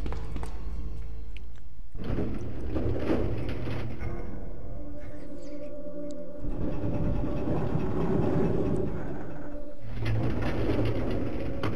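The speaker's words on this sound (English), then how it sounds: "This train is actually in Resident Evil 0." A train in the video game Resident Evil 2 rumbles on with a low heavy engine drone and rattling carriages, steady and loud with brief shifts in tone, no speech.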